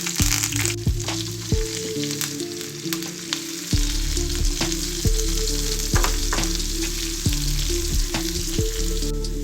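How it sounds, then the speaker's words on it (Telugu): Garlic, green chillies, onion and curry leaves fry in hot oil with a steady, close sizzle, broken by repeated scraping stirs and clinks of a spoon against the pan, and no voices. "వెల్లుల్లిపాయ ముక్కలు, పచ్చిమిరపకాయలు, ఉల్లిపాయ ముక్కలు, కరివేపాకు వేసుకోవాలి."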